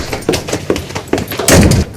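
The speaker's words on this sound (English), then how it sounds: "Shut the door." A door is shut with a loud thud near the end, following several softer knocks and footstep-like bumps in a domestic interior from a 2003 EastEnders scene.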